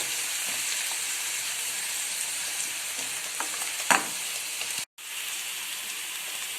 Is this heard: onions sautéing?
yes